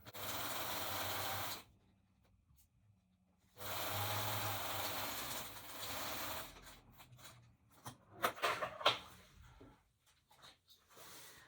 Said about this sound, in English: I have rather an old sewing machine, but I've had it a long time and it's quite reliable, really.